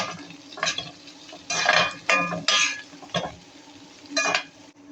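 A spoon stirs gongura chicken curry in a pan, giving repeated short scraping and sizzling strokes with a soft metallic clink, several bursts at an uneven rhythm, close and fairly quiet.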